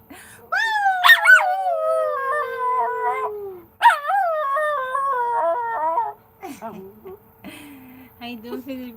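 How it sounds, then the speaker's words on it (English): A dog howls in long rising and falling wails, two sustained howls followed by softer whimpering yips, close and loud during an indoor live stream. "Y'all want to hear Marnie howl"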